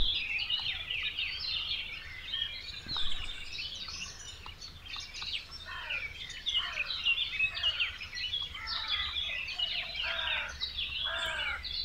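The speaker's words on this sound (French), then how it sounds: "C'est incroyable tous les oiseaux qu'on entend." Many birds sing outdoors near a home, overlapping chirps, trills and whistled phrases from several directions, busy and continuous over a faint low background hum, with no talking.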